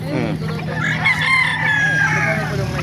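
A rooster crows loudly and close by at the Bocaue tyangge chicken market. One long drawn-out crow rises over low market murmur and clucking.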